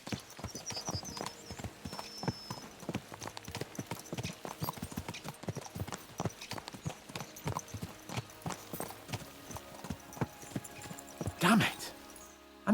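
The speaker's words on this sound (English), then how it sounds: "Let's really spur these horses on, eh?" Horses trotting in the video game Kingdom Come: Deliverance II, hooves clip-clopping in a steady quick rhythm, close and clear, with a brief whinny near the end and someone talking over it.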